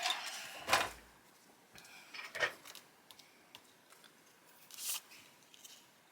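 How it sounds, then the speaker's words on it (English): Scissors cutting a cardstock panel during card-making, a few faint, crisp snips spaced a second or two apart in a quiet room. "So I'm going to cut a 1/4 inch off of this one too."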